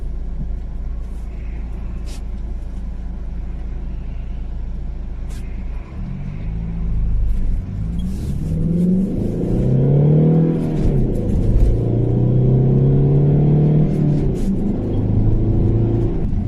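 Large car rolling on Uniroyal Rainsport 5 tyres, a low steady road rumble that swells midway into rising engine drone with accelerating whir and tyre noise, heard from inside the cabin with no talk.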